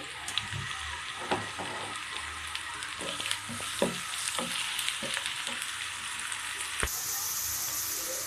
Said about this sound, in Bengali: তো চুলার মধ্যে ফ্রাই প্যানে দিয়ে দিচ্ছি তেল এবং পেঁয়াজ তেল পরিমাণ মতো দিতে হবে তো এই পেঁয়াজটা একটু ভেজে নিচ্ছি